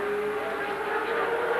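Touring cars from the 1983 ATCC round at Symmons Plains, including V8s, braking and accelerating on the circuit: a continuous engine roar with a steady tonal whine, rising and easing slightly, heard at a distance.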